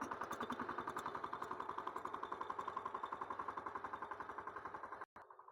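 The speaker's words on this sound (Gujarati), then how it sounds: "ટ્રેક્ટર છે આમ જોવો તમે." A diesel tractor engine chugs steadily in a fast, even rhythm nearby, running continuously before cutting off abruptly near the end.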